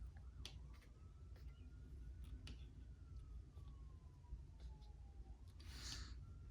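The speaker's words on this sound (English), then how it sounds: "we got the sirens going off" A faint, distant siren wails slowly up and down beneath a low rumbling background with occasional clicks.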